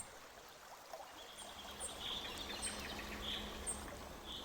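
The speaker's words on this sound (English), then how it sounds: "Rivers cascaded beneath, their sounds gentle, steady, and eternally mellow." A river flows gently beneath an old stone bridge early in the day, a soft steady wash of water with faint bird chirps scattered above it, all quiet and distant.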